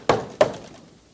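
Two firm knocks on a wooden door, close and distinct, spaced about a third of a second apart with a short decay after each, no talking over them.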